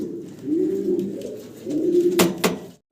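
Fancy pigeons kept for sale coo in low, rolling bursts close by, with a couple of sharp clicks or flaps near the end.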